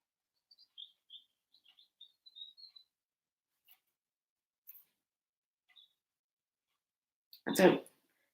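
A small bird chirps outdoors in a sparse run of faint, high, brief calls spread over several seconds, with a louder close noise near the end.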